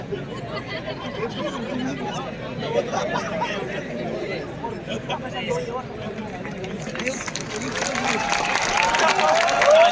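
An audience at an IIT Delhi session applauds and chatters as a guest is invited on stage, the crowd noise swelling and brightening into louder clapping over the final few seconds.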